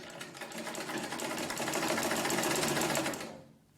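A sewing machine stitches a straight seam in one continuous run, its rapid rhythmic needle clatter and motor whir building slightly and then stopping abruptly near the end; close and loud, with no speech.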